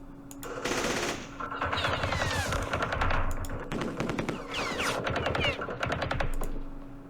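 Repeated bursts of machine-gun fire in Campaign Series Vietnam, a Battle of Pleiku 1968 wargame, crackling in short, loud, rapid volleys separated by brief pauses.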